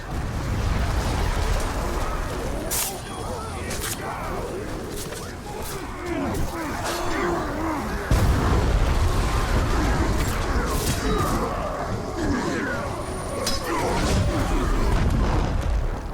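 Orcs exploding in the Shadow of War video game during a slowed-time mode, heard as a dense, loud, continuous barrage of booms, bursts and creature roars throughout, with game effects layered densely together.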